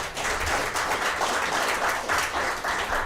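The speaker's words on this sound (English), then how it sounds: "give these guys another round of applause." Steady applause from a bluegrass show audience, dense clapping that fills the whole stretch at moderate loudness, with no voices over it.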